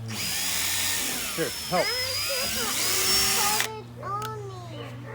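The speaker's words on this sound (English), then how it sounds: "I started drilling out the holes right where I made those marks" A power drill whines loudly, drilling holes into a plastic barrel composter, its pitch rising and dipping under load for several seconds before stopping, while a child and an adult talk briefly.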